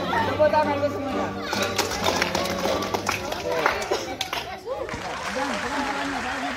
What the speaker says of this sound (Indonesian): Tepuk tangan ke semuanya.